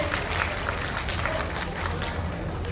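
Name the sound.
crowd applauding to welcome party leaders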